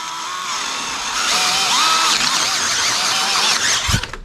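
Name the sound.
power drill drilling a hole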